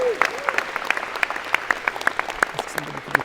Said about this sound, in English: Any of our athletes, give them a big round of applause.